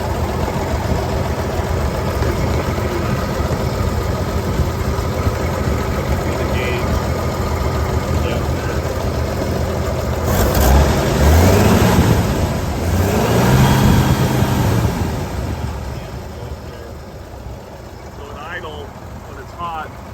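A 1958 GMC 100 Napco 4x4 short-wheelbase truck engine idles with a steady low rumble, then swells briefly as the throttle is blipped before settling back, close and loud, with a voice talking over it.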